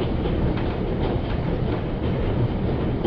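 A train running steadily on rails, a loud, dense rumble close by with a faint rhythmic clickety-clack under it. The noise is continuous and there is no talk.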